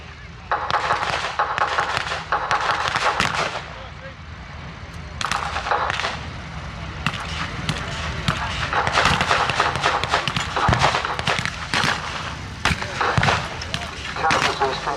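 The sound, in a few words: Soviet howitzer artillery fire in a video game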